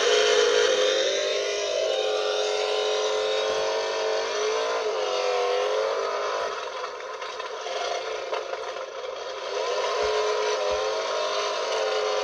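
A toy 1/12 scale muscle car plays its engine sound effect, a steady buzzy electronic roar with a slight pitch swell and occasional clicks, close and continuous for about twelve seconds.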